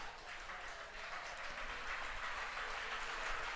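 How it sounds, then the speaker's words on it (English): A home crowd at a high school Division 4 baseball state semifinal, Perkins against Indian Hill, makes a steady wash of cheering and clapping that holds at an even level throughout. "a pro Perkins crowd here trying to urge him into getting out number 3"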